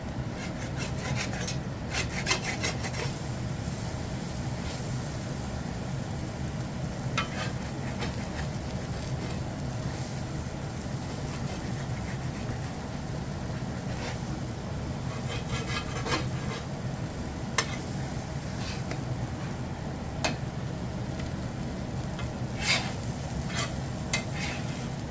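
Leftover mashed potatoes frying in a pan, a continuous close sizzle with scattered scraping and crackling ticks over about twenty-five seconds.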